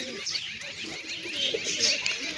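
Pigeons and pigeon chicks, including a white chick, coo and chirp softly close by, with faint wing rustles in quiet surroundings.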